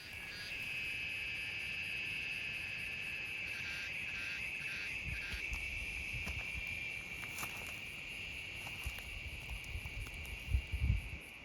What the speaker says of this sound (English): Just the occasional bird and cricket, cicada.